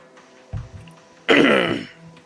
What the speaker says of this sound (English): Always got something in the back of my throat.